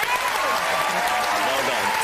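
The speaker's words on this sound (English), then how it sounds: "keep your applause going for our wine expert, Mr. Matthew Dukes" Steady applause from a television studio audience on a game show, cheering a wine expert. Dense continuous clapping holds at an even loud level throughout, with a faint tone and crowd voices mixed in.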